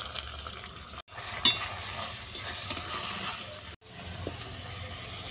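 Chicken mince frying in a pan with garlic, ginger, onion and green chilli makes a steady, close sizzle, with scraping stirs and light clinks of a utensil against the pan.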